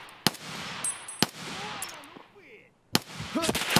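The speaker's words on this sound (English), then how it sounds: "I shot him in the head like 9 times." Sharp gunshots in the shooter game Escape From Tarkov, a handful of loud single cracks spaced irregularly, with quieter background rustle and a short lull before a final shot.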